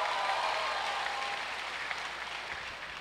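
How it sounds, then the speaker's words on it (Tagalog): An audience at a community meeting with local leaders claps in dense, steady applause that eases off slightly toward the end. "Baka pwede konti palakpak lang ho dyan."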